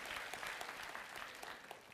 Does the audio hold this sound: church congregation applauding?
yes